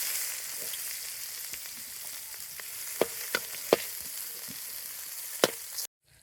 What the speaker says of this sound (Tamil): இப்போ நம்ம எண்ணெயை ஊற்றிக்கலாம். ஆனியனையும் பச்சை மிளகாயும் போட்டுக்கலாம்.